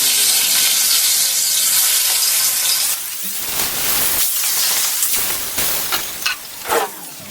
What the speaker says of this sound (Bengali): মাছগুলোকে আমি এপিট একবার ওপিট একবার করে ভেজে নিব